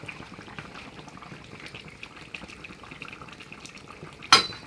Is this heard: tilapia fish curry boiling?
yes